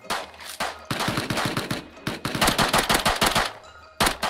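Gunfire in the video game Rust, rapid loud bursts of automatic shots in several volleys with brief pauses between them, close and heard alone.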